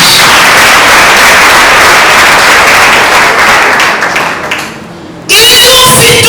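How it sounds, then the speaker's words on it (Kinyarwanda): A church congregation claps for God, dense loud applause filling the room for about five seconds, fading briefly before an abrupt burst of sound returns with a voice. "Hari abantu banyumvise bakomera Imana amashyi."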